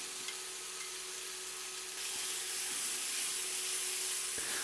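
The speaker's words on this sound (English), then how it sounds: "we add half our beef in, and we want to keep stirring this until it's browned" Beef browns in a hot wok, making a steady close sizzle that grows louder partway through. Faint knocks of stirring come now and then.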